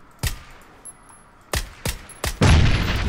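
Gunshots ring out in the FortGrounds video game: a single sharp crack, then after a pause two quick shots and a louder sustained burst of fire at the end, with a faint tone in the background.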